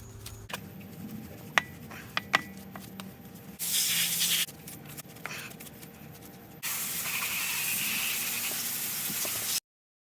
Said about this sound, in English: Make sure you spray it off and get it wet.